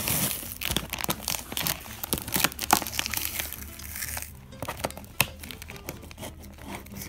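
Packing tape being peeled off a cardboard jacket box, a close, scratchy run of crackling rips and crinkles that comes in uneven bursts, with no one speaking.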